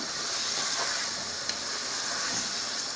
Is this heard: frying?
yes